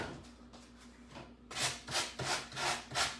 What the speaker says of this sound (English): sanding blocks, stupid noises that come with crafting.